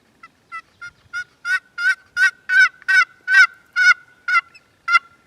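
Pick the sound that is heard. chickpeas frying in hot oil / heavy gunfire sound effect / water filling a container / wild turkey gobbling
wild turkey gobbling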